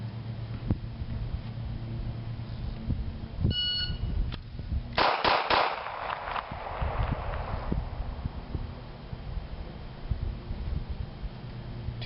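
A single short electronic shot timer beep sounds partway through amid background noise and clattering, followed by a burst of loud sharp pistol fire.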